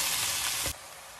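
A brief loud sizzle rises from mixed vegetables, including broccoli and cauliflower, frying in a pan for Filipino pansit, then cuts off sharply.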